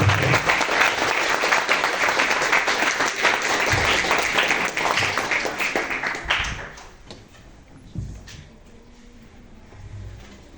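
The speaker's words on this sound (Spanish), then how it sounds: "Los aplausos" Audience applause at a Spanish medieval music concert, dense clapping for about six seconds that then thins and fades into scattered claps and room noise.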